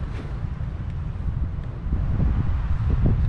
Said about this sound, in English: The wind is making it so hard.